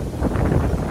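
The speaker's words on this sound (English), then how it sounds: "It's so windy." Gusty wind buffets the microphone in a short, loud rumbling burst outdoors.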